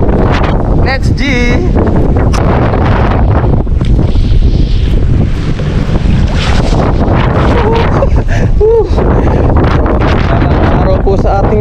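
Heavy wind buffets the microphone at a windy outdoor fishing spot, a loud, constant roar and rumble that stays dominant throughout while a voice talks intermittently beneath it.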